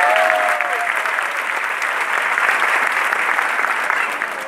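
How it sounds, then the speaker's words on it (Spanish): Loud applause from a large sales conference audience in a hall, dense steady clapping holding at full strength for several seconds with a faint voice briefly heard near the start. "Dense un fuerte aplauso por eso."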